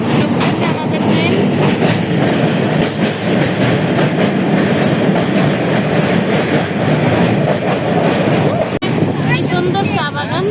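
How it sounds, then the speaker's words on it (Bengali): Passenger train running on rails as it enters a station after crossing the Bhairab bridge, a steady loud rumble and rattle of the moving carriages throughout, with a brief clack near the end. "এখন আশীর্বাদ ঢুকতেছে আমাদের ট্রেন।"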